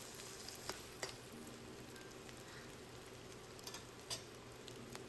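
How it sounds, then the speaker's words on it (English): Mushrooms being stir-fried with chow mein noodles, a faint, steady sizzle with a few soft clicks of the utensil against the pan. "Then toss in some mushrooms and stir fry for another minute."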